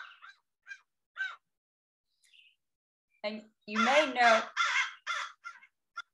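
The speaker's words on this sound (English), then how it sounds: "this one on the left does happen to be a fish crow" A fish crow gives a few short nasal caws, then a louder run of calls close by, with brief silent gaps between.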